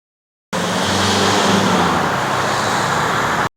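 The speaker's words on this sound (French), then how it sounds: "Du bruit dans la voiture, t'as le volant qui vibre." A car driving over rough, poorly maintained Belgian roads, a steady loud broadband rumble with low road hum, continuous and close throughout with no talking.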